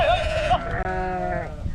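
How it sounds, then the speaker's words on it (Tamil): A goat bleats loudly and close by at Mannavanur goat farm in Kodaikanal, one wavering cry followed by a second, rougher bleat, with farm background behind. "ஆடோட சவுண்டு தான் பயங்கரமாக இருக்குது"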